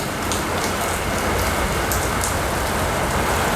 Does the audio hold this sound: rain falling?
yes